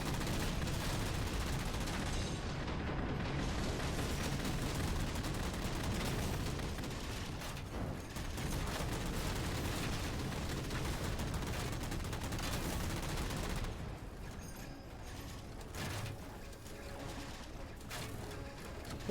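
Sustained Halo 4 gunfire aimed at the player, dense loud bursts of shots running continuously and easing only slightly in the later part.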